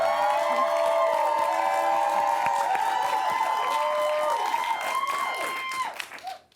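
A studio audience on the Dan Corder Show in Johannesburg cheers, whoops and applauds a South African journalist's entrance, a loud sustained roar of clapping and shouts that fades in the last second.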